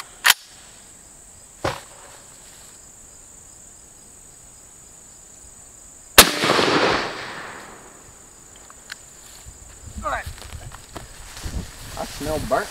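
A 7.62x39 SKS rifle fired into stacked tyres outdoors: two small sharp cracks early, then a loud blast with a lingering rumble, under a thin insect drone, with people talking toward the end.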